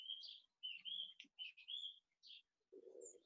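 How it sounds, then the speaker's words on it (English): Small birds tweet in the trees of a back garden, a string of short, high chirps and whistled notes, fairly near but soft, with a low murmur at the end. "I can hear the birds tweeting somewhere."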